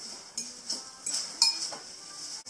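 A utensil scrapes and clinks against a bowl while lumpy dry ingredients are mixed by hand, a few quiet, irregular metallic taps and scrapes at close range.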